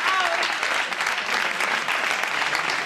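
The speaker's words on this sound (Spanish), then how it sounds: "Gracias por este aplauso desinteresado" Steady applause from a comedy audience at a stand-up show, dense continuous clapping filling the whole stretch at even loudness with no voices over it.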